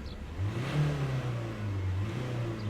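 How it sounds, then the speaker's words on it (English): A Mercedes-Benz Citan 109CDi diesel van with a differential pressure sensor fault, its engine revved and droning steadily at moderate volume, heard close and alone for a few seconds. "Even when you rev it."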